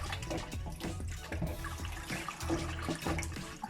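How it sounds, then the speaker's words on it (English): Jamaican calaloo leaves are rinsed under a running kitchen tap, a soft continuous splash and trickle of water with small shifts as the leaves are moved through the stream. "Give it a good rinse, and anything on it what not supposed to be on the leaves and the calaloo will come right off."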